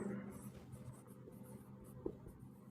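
Marker or chalk writing on a board during a classroom lesson, a quiet run of short scratching strokes with one sharper tap, close and faint, with no talking.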